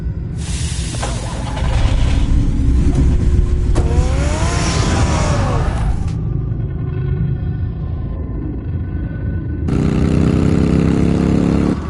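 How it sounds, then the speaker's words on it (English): Car engine in Batman: The Telltale Series starts with a burst, revs loudly and drives off, the engine note rising and falling with a brief quieter stretch before it roars again. "Get the car ready, Alfred."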